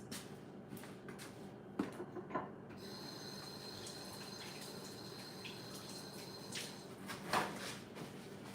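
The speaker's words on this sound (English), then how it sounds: "Let me wash my hands." Hands washed under a running kitchen tap while preparing bacon-wrapped shrimp: a steady quiet stream of water with a few splashes and clicks, low and fairly distant.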